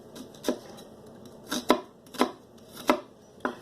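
A knife chops through an onion on a cutting board in a series of sharp, separate thuds, about six cuts at irregular spacing, close and clear with no talking.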